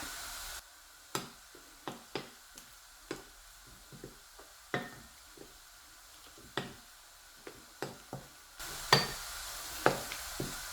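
Potato dough being stirred while flour is slowly added for grey potato dumplings, with soft irregular taps and squishy knocks of the utensil against the bowl, close and fairly quiet over low hiss.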